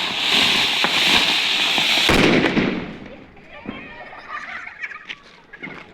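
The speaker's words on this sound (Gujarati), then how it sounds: "આમ જો કેટલા એલા ફટાકડા ફૂટા છે." Diwali firecrackers and fireworks burst loudly in a dense, crackling volley for about two seconds, then fade into scattered nearby pops and snaps, with faint voices in the background.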